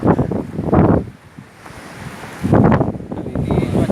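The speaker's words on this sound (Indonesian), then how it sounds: "ombak begitu tinggi ya hari ini di tebing Amreh" High ocean waves surge and wash against Amreh cliff in Aceh, two heavy roaring swells rising and falling with a lull between them, buffeted by strong wind noise on the microphone.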